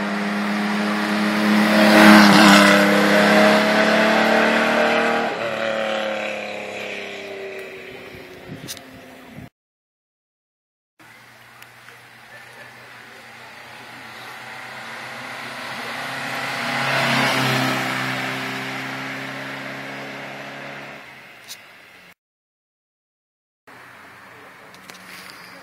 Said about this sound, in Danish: Så kommer der igen en MG Magnet, det er også en 6-cylindret.